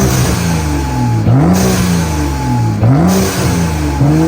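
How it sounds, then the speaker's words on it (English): A BMW engine revving through its intake, with rising and falling pitch sweeps in two pulls and a loud, steady engine drone between them; no voices. "Now for a few intake sounds."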